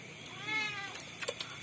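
A cat gives a single thin, drawn-out meow at close range, mixed with a few small clicks and faint background noise.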